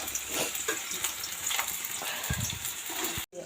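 Mustard greens frying in a pan on a home stove, a steady close sizzle and crackle that runs continuously without talk.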